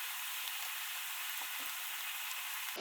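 Beef goes into ramen cooking in a pot, giving a faint, steady sizzle and bubbling that runs the whole time, with a soft thud near the end and no voices.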